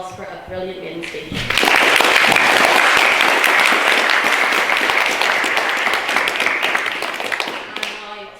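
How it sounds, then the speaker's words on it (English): Audience applause after a maiden speech at a debate on whether AI undermines humanity, starting with a brief voice and scattered claps, then swelling into dense, loud clapping that holds steady for several seconds before tapering. "And can we have a second round of applause for a brilliant maiden speech?"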